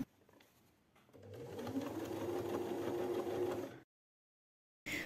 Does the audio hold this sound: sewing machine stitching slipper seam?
yes